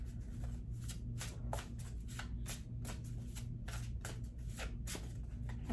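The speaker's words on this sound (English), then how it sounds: "let's just go ahead and pull from the Untethered Soul for a spiritual advice card" Oracle cards are shuffled for a spiritual advice reading, with rapid riffling flutters repeating in quick bursts, close and clear over a steady low hum.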